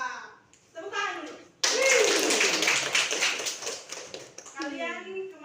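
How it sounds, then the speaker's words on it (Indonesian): A classroom of schoolchildren claps together in a dense burst of about three seconds. Voices talk briefly before and after it. "Tepuk tangan dulu."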